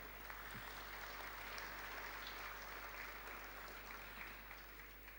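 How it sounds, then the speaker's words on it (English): An audience in an awards hall applauds, a faint, steady wash of clapping that carries on without a break. "I think you need to give yourselves a round of applause"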